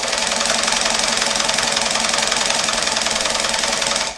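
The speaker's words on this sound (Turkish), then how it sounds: "Bu tip makinelerde overlock dikişi şu şekilde oluyor" A Singer 224 sewing machine running fast while stitching an overlock seam on knit fabric, a loud, close, continuous rapid whirring hum that cuts off abruptly at the end.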